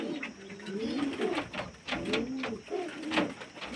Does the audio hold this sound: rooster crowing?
no